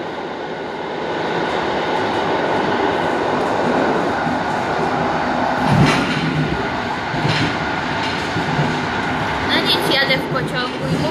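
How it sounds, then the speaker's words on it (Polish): Inside a moving passenger train in Poland, a continuous rumble of the carriage rolls on the rails with occasional clunks and rattles, and indistinct voices can be heard in the background. "Jadę w pociągu"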